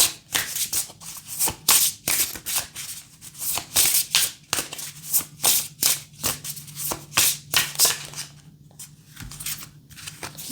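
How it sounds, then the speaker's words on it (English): A deck of cards shuffled by hand, a close, steady series of crisp riffling and flapping bursts in a loose rhythm, with no talking. "As I started shuffling that, this other deck was calling out."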